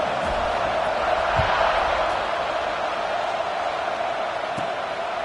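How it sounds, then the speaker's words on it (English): A football stadium crowd buzzes after a score, a dense steady roar of many voices filling the space at constant loudness, with a couple of brief thumps rising out of it. "this crowd is buzzing after that last score"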